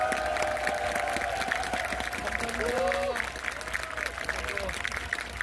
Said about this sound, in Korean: 감사의 뜻으로 박수를 한번 크게 올려주십시오